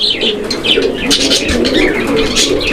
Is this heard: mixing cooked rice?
no